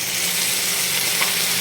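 Potatoes and pointed gourd sauté in oil in a pan, giving a loud, dense, continuous sizzling hiss close by with no pauses and no voices.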